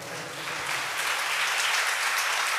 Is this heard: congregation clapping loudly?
yes